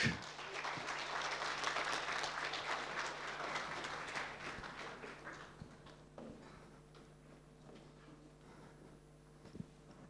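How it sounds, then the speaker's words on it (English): Audience applause at a hackathon event, loud and dense at first, then thinning and fading into scattered claps and quiet room noise by the end, with no talking over it. "So please, audience, help me in putting together a massive applause for our first team"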